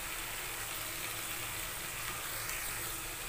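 Mustard-chili paste with salt and turmeric frying in a pan, a steady, even sizzle that holds at a low level throughout with no talking.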